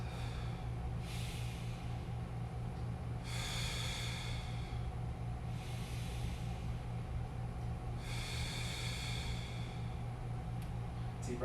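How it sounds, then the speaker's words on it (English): Deep, slow breaths during a foam roller stretch for the calf, hamstring and low back: three or four airy, drawn-out breaths repeating every few seconds over a steady low room hum. "We take some nice deep breaths."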